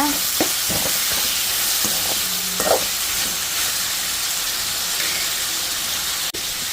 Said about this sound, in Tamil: தக்காளியை நல்லா வதங்கணும் நல்லா வதக்கிக்கோங்க